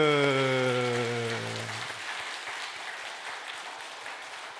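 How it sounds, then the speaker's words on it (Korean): Church congregation at Sunday worship bursts into clapping as a sustained musical tone dies away, leaving a soft, steady patter of many hands that continues evenly to the end. "힘차게 박수"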